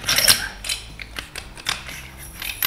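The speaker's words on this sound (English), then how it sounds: "Barrel collar and tighten it down until it stops." Clicks and metallic scrapes of a barrel collar being screwed down tight on a GForce Arms GF12AR semi-automatic shotgun, a close series of irregular ratcheting snaps.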